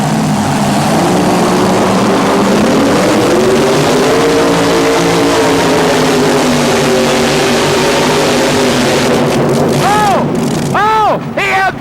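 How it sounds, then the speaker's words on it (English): A 1923 Model T bucket drag car with a Rodeck engine roars loudly and continuously at full throttle, harmonics sweeping as it pulls down the strip, ending in sharp rising whines and bursts near the close. "This is a 1923 Model T bucket. He's running a Rodeck engine."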